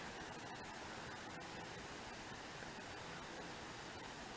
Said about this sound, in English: this is the Clackamas River